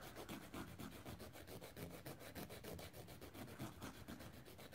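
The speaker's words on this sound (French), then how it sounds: "moi je prends une lime comme ceci et je viens limer" A nail file rasps back and forth across a fingernail during gel nail preparation, fast repeated strokes faint and close, with no voices.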